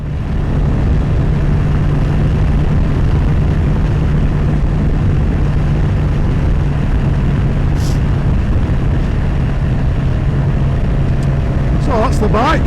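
BMW S1000XR motorcycle engine droning steadily through a ride, a loud continuous hum with heavy wind rumble throughout and a brief rising whine near the end.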